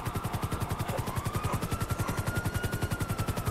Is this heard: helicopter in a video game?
yes